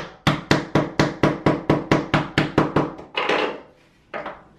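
A glazing bead being knocked into a uPVC double-glazed window frame, a fast even series of about thirteen sharp close taps, then a scraping rustle and one last knock.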